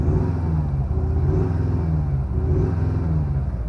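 Audi A6 C7 Individual with the V8 sound package, its engine holding a steady, loud, deep rumble with gentle swells in revs throughout, no voices over it.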